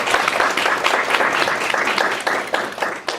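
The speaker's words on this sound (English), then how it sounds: "Can everyone give one more round of applause to" Audience applause at a student talk event, steady dense clapping from a seated crowd lasting a few seconds, fairly close and even throughout.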